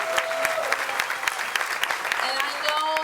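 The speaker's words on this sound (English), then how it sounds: "So please give her another round of applause." An audience gives another round of applause at a campus ceremony honouring Sonia Gutierrez, a sustained wash of many hands clapping with distinct sharper claps, a few voices mixed in.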